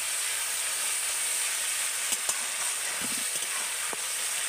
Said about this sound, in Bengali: আদা রসুনটাকেও কিন্তু আমি তেলের সাথে একটু ভালো করে ভেজে নেব।